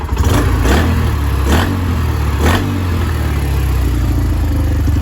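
A Honda Sonic 125 motorcycle with a single carburettor idles loudly and close up, blipped into a few quick revs that rise and fall before it settles back to a steady idle.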